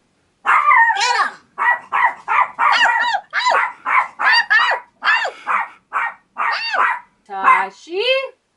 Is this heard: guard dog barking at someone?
yes